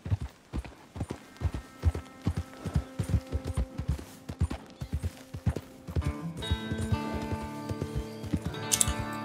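Horse hooves clip-clop at a steady gallop in Red Dead Redemption 2 as the rider sets off on a horse with a white rump and white legs, the rhythmic hoofbeats close and continuous while tonal game music swells beneath.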